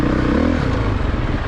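A Honda CRF450RX dirt bike riding muddy red-dirt single track at Red Bird, its engine a loud, steady close-up drone with clattering over rough ground.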